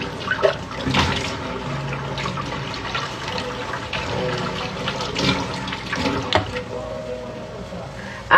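A kitchen tap runs steadily while dishes are washed, a loud continuous gush of water with some clatter and brief sounds mixed in.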